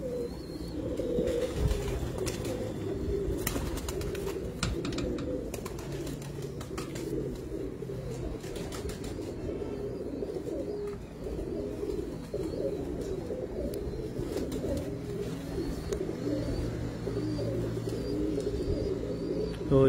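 Several breeder pigeons keep up a continuous low, burbling coo nearby, the rolling calls overlapping in a steady chorus with occasional light clicks and no talking.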